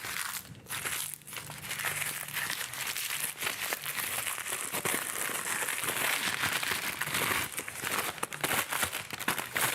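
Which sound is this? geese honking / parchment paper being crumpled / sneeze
parchment paper being crumpled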